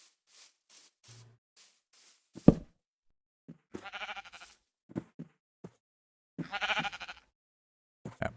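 Sheep in the Minecraft video game bleat in a few short, clear bursts spaced across the clip, along with scattered soft game sounds and one sharp knock.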